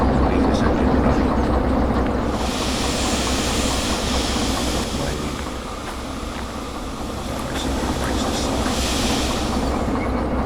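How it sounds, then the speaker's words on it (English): A locomotive engine in the Derail Valley train-simulator game idles with a steady, heavy mechanical rumble and a faint rhythmic clatter, continuous throughout. "Leave this engine running."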